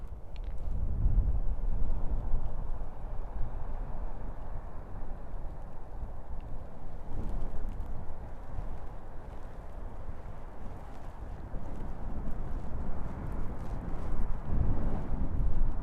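Strong gusty wind buffets the microphone on a beach with a stormy sea, a steady low roar with surges throughout and no voices.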